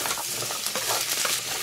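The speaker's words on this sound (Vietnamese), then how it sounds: "Chiên cho khoai tây rám mặt là được." Potatoes and carrots fry in oil in a pan for a beef stew, a dense, continuous crackling sizzle with small pops and stirring scrapes, close and fairly loud.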